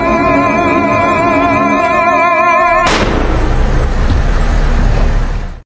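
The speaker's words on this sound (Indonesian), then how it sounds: "Suara tembakan itu terdengar jelas ke telinga Junho yang sejak tadi berada di luar motel" Gunshot in a dramatic TV series scene: a sharp, loud blast cuts off a sustained musical tone midway and leaves a broad rumbling wash of noise that carries to the end.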